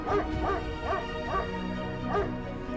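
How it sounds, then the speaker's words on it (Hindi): A dog barks in a repeated series of sharp, yelping barks, about five in under three seconds, fairly close and loud over a low background hum with no talk. "मैं पहले कुत्ते के भौंकने से बहुत परेशान हो रही हूँ।"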